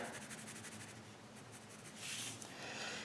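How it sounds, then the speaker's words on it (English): Pencil sketching and shading on paper while drawing an eye: soft, continuous scratchy strokes close by, with a denser, brighter burst of shading near the end; quiet and steady, with no voice. "Let's sketch in some darkness here."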